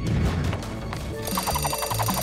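An alarm clock in an animated cartoon starts ringing partway through, a rapid, bright repeating bell over a busy background of clattering sounds and music.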